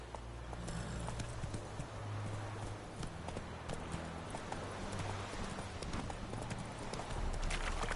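Roach the horse galloping in a video game, a steady fast run of hoofbeats close and continuous over a low rumbling background, with faint game voices now and then.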